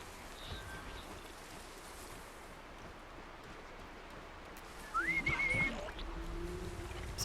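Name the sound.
character whistling in the video game Horizon Zero Dawn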